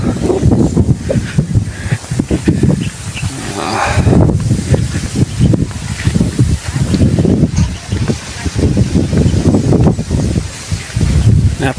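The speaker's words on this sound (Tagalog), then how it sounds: "Lakas ng hangin." Strong wind blows steadily across open countryside farmland, a dense, buffeting rush with low rumbling gusts and microphone wind noise that rises and falls throughout, alongside rustling.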